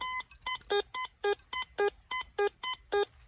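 Metal detector at a dig site giving a run of about a dozen high-pitched electronic beeps in a steady rhythm over a buried silver thimble, clear and close with no voices.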